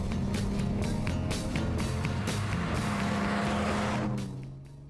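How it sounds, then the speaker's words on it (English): A classic Sebring sports car with a Weber carburetor roars nearby under steady throttle, its engine note droning loudly before fading away toward the end. "Hearing the Weber carburetor moan as it sucks in air when you open it up"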